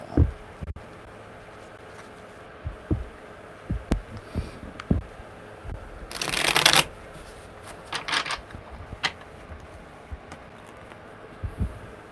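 Tarot cards are handled with scattered soft taps and thumps, then one brief riffle shuffle midway, close by and quiet.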